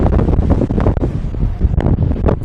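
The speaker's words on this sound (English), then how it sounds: "So quite windy" Strong wind buffets the open deck of a Royal Caribbean cruise ship, loud gusty roaring and rumbling against the microphone with no pause.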